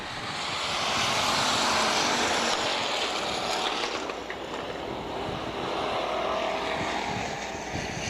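Coors Light Hobby Stock race cars at Minneapolis Raceway roar around the track under green-flag heat racing, a loud continuous engine drone that swells and eases slightly as the pack passes.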